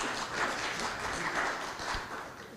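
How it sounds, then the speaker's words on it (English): Audience applause after a speaker is introduced at a panel event, a steady, moderately distant wash of many hands clapping that holds for a couple of seconds with no voices on top. "Some applause"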